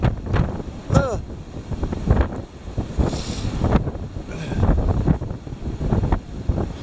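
Strong gusting wind buffets the microphone with roaring bursts, while a voice speaks faintly underneath at times.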